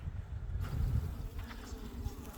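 Bees buzz in a dense, steady drone inside an opened beehive during routine hive maintenance, loud and close throughout with no talking.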